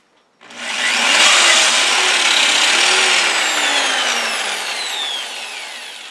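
An angle drill fitted with a sanding attachment grinds against a wood-turned yarn bowl, a loud, steady whirring rasp that starts abruptly, holds for several seconds with a slowly shifting pitch and eases slightly toward the end.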